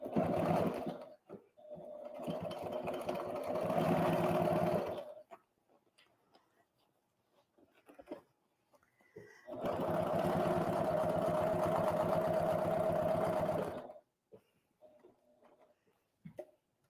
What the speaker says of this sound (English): Sew this nice and straight.